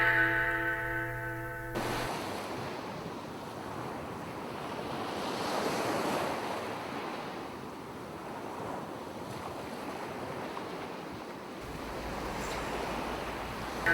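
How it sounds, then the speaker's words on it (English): Ocean waves wash and surge continuously as a sound effect in a Frankenstein radio play, a broad steady roar of surf rising and falling with no voices, opening briefly after a short musical sting. "Again the waves."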